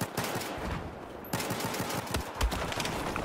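Suppressed AK-12 rifle fire in the Battlefield 4 video game, rapid bursts of muffled shots crackling almost continuously throughout, with a brief lull before the firing resumes.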